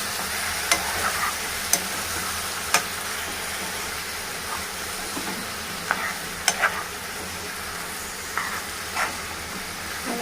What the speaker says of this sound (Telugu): ఇది బాగా కలపాలి.